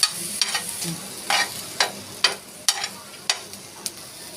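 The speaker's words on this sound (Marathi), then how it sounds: "सगळ्यात लास्ट असता इलायची आणि टोमॅटो आपण भाजून घेणार आहोत" Cardamom and tomato roasting in a pan while a spoon stirs them, with about eight sharp scraping strokes at an uneven pace over a soft frying hiss, close by with no talking.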